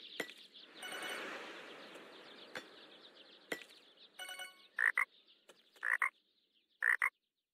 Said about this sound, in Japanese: カエル鳴きやるよ。